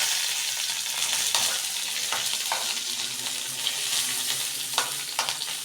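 Curry leaves sizzle hard in hot oil in a pan, a loud continuous crackle broken by several sharp scrapes of a spoon stirring them.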